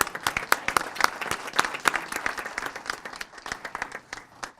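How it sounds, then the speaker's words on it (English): City council meeting audience gives a modest round of applause for the animal services staff, a smaller group of distinct claps that starts brisk and gradually thins and fades. "Let's give our animal services another round of applause."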